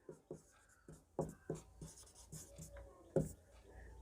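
Pen scratching out a maths solution on paper, a series of short strokes and taps arriving in uneven bursts, close and fairly quiet, with no talk.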